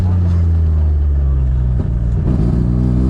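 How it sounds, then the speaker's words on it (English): A 13B turbo rotary engine in a Mazda 1300 coupe revs hard and slams into the rev limiter, a loud, close, sustained buzzing drone with a sharp stutter partway through, voices faint beneath. "see how savage it hits the limiter?"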